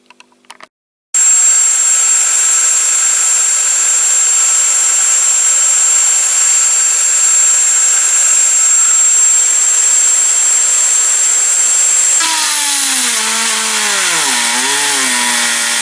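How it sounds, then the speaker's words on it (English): A power drill whines loudly and steadily into metal on a Crescent Toys Fordson Dexta toy tractor for about eleven seconds, then its motor winds down with a falling pitch. "I think I'll try and pin that over with my punch and the drill"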